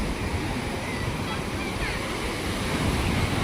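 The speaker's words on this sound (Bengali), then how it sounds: "সাগরের উত্তাল গর্জন" Open sea surf off Havelock surges in a continuous, loud roar of breaking waves, thick and close, with wind buffeting the microphone throughout.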